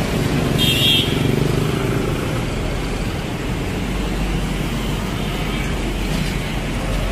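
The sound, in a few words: motorcycle passing on road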